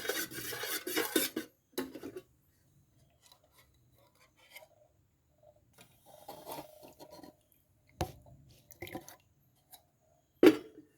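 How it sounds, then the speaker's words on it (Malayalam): Cooked ragi (finger millet) drink is strained in a kitchen. Sparse metallic clinks and scrapes of utensils alternate with drips and quiet pauses, and there are occasional louder knocks. "അപ്പോൾ ഇതിനെ ഇനി നമുക്ക് അരിച്ചെടുക്കാം"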